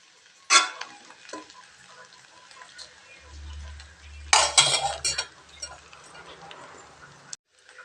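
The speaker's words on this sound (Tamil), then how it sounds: "கடலக்காயெல்லாம் இதில் கலக்கிற மாதிரி நல்லா கிளறி விடணுங்க" Rice mixed with onion and peanuts is stirred in a pan with a spoon, giving two bursts of scraping and clinking, one short and one longer, with quieter rustling between them and no talk.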